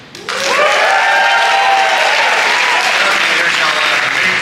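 An audience at a Listen To Your Mother 2025 storytelling event breaks into loud, sustained applause with cheers and whoops, starting abruptly and continuing steadily throughout.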